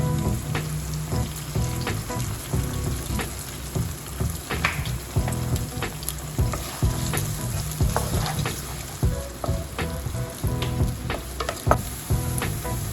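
Chopped onions sautéing with salt in a hot pan give a loud, continuous sizzle broken by frequent clattering stirs of a spoon against the pan.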